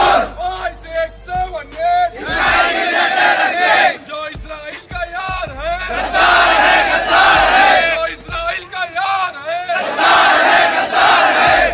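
A protest crowd from the SIO party in Gulbarga chants slogans against the oppression of Palestinians, loud massed voices rising and falling in repeated call-and-response bursts.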